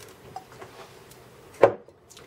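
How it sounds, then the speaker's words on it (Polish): Knife strokes on a cutting board while vegetables are finely diced for meat-stuffed peppers, soft scattered taps with one sharper chop near the end, close and fairly quiet. "Kroję to wszystko, co mam tutaj na kostkę drobną."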